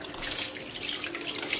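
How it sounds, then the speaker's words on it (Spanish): A kitchen tap runs hard over raw chicken being rinsed in a sink, making a steady bright hiss of splashing water. The stream holds a continuous, close flow with small fluctuations and no voices. "ya aquí voy a tirarle el agua y lo voy a volver a enjuagar"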